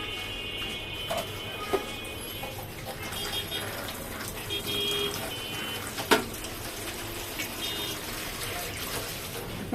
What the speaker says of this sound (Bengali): আমি ভুড়িটি হলুদ এবং নুন দিয়ে ফুটিয়ে নিচ্ছি।